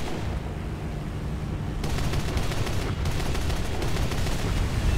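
Heavy MK-103 cannons on a He219-A7 night fighter in War Thunder, firing in rapid, continuous bursts over a roaring engine drone, loud and close, intensifying partway through.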